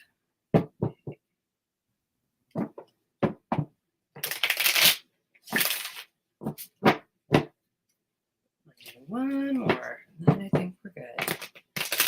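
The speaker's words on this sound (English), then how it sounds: "I'm shuffling for you now" Tarot cards are shuffled in bursts of crisp riffles and taps, broken by pauses, while someone speaks softly between them.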